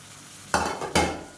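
Green chillies hit a hot pan and sizzle loudly in two sharp bursts as they are added and stirred for sautéing, over a quiet kitchen background.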